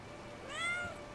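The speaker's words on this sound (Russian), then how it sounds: "Котенок, смотрите, какой." A kitten in the video game Brothers gives a single short, rising meow midway through, clear but quiet over a low ambient background.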